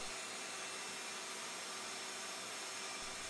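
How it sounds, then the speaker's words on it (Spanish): A steady, loud broadband whoosh of a vacuum cleaner running continuously, close by, with no talking. "Conecta todo el sistema y enciende la aspiradora."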